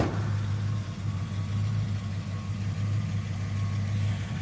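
A 1950 Mercury Eight hot rod idling smoothly, a steady low engine hum holding even and unbroken at close range with no talk over it.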